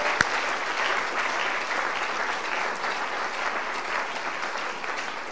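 A church congregation applauds at a French-language service, with dense, sustained clapping filling the room evenly from start to finish, steady and loud with no voices standing out.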